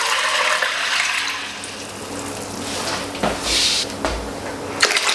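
Water poured from a container into a crock pot holding beans, a steady broadband splashing rush that swells and fades in bursts at close range, with no talking.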